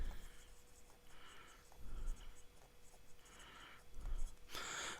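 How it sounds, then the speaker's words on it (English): A pen loaded with Diamine Shimmertastic shimmer ink scratches across paper in a writing sample, with soft intermittent strokes and short pauses, faint and close with light background hiss. "So we'll do a writing sample."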